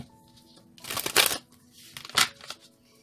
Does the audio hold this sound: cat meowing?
no